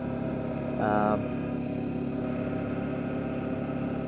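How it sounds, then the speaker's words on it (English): An Arctic Cat Diesel 700 ATV engine idles steadily at low revs in a constant rumbling drone, with a brief higher tone rising over it early on. "But it's actually a good sounding engine."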